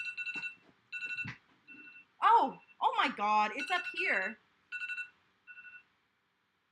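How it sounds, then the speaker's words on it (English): A phone alarm chimes in short repeated bursts of electronic tones while someone speaks over it between the beeps. "my alarm saying that the cats have to be fed in 30 minutes"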